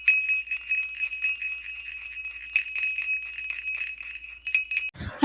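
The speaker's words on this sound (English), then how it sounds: "here is the sound of harness bell" Bright harness bells jingle in quick, repeated shakes, close and clear, ringing continuously before a brief rustle at the end.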